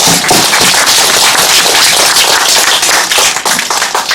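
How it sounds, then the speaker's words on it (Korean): A large gathering at a Korean civic meeting with Confucian scholars and families of righteous army members gives loud, dense welcoming applause that runs steadily close up for the whole clip. "여러분 환영의 박수 한번 크게 보내드리기 바랍니다."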